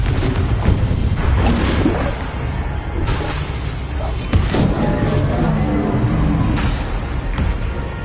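A Confringo spell explodes in Hogwarts Legacy amid loud, dense combat noise, with booms and whooshing blasts repeating over a steady roar and voices woven through the mix.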